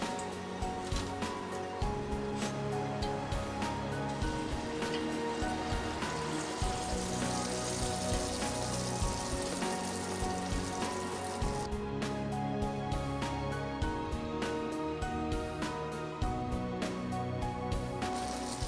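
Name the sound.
unniyappam batter frying in oil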